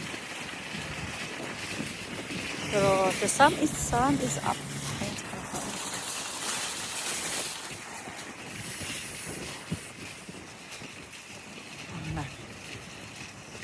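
Gusty wind buffets the microphone outdoors, a rough low rumble under a person talking, with louder bursts early on.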